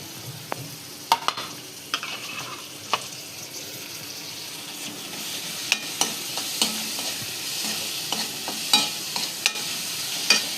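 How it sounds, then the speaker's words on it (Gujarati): Tomatoes frying in oil while being stirred into a green onion sabji, a steady close sizzle broken by sharp spoon clinks against the pan at irregular intervals. "પછી એમાં આપણે નાખશું ટમેટાં।"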